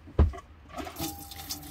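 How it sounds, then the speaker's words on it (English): Salt water intake on a small sailboat being tested during a refit, with a brief gush at the start followed by a steady trickling flow of water through the plumbing, close by. "test the salt water intake"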